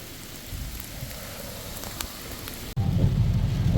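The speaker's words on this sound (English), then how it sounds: "It's pouring down rain right now" Heavy rain pours onto a road in a steady hiss, softer at first, then suddenly louder and denser with a low rushing roar near the end.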